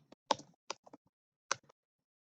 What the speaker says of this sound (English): I can start typing stuff.